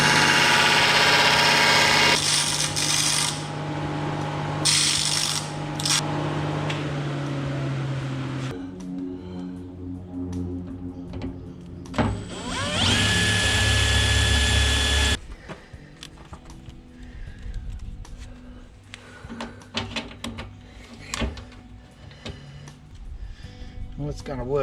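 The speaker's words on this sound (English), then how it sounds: "Just making up a bigger bracket to bolt through for the sonar, so we'll go and give that a bit of a tidy up on the sander." Power sander grinding a metal sonar mounting bracket, a loud harsh continuous whir for the first half with brief interruptions, then quieter workshop noise with a person talking.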